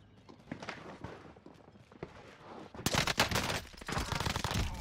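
Rapid gunfire from a first-person shooter match, with scattered shots early that erupt into loud, dense sustained bursts in the second half, close and continuous.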